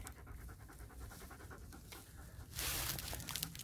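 A dog pants steadily on a hike near Tepoztlan, Morelos, Mexico, quick rhythmic breaths close to the microphone over outdoor noise, with a louder burst near the end.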